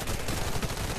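Continuous rapid gunfire in the video game Warface fills the whole brief moment as a dense, steady rattle, with no single shot standing out.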